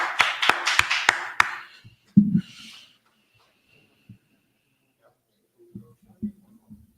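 Applause from a class, a quick run of about six sharp, loud hand claps in the first second and a half, then a single thumping clap and scattered faint knocks and shuffles in a quiet room.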